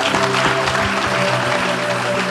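An audience in a church-style worship gathering applauds for the Lord, a dense, steady wash of clapping from many hands, loud and continuous, with a sustained tone humming underneath.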